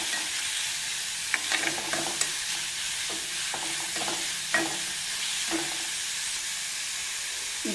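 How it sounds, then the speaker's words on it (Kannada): Grated carrot fries steadily in a pan, a constant sizzle and hiss with scattered scraping knocks from a spoon stirring it, close and clear with no talk. "ಈಗ ಕ್ಯಾರೆಟ್ ತುರಿ ಹಾಕೋಣ, ಚೆನ್ನಾಗಿ ಫ್ರೈ ಆಗಬೇಕು."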